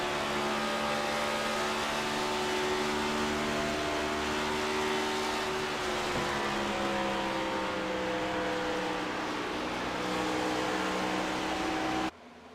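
Stock car racing video game with Next Gen cars, where several engines drone in a steady, loud layered whine with gradually shifting pitch over a constant noise bed, cutting off abruptly at the end.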